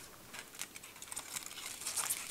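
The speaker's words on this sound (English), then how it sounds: "take the aluminum foil that you've weighed and tear it into four pieces" Aluminum foil is torn into pieces and crumpled into loose balls during a gas laws chemistry lab experiment, giving faint, close, crisp crinkling bursts.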